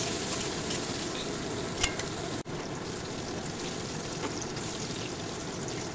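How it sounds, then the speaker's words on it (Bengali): Potatoes frying in oil make a faint, even hiss and crackle with one brief knock partway through. "এবার আলুটাও ভেজে নিচ্ছি।"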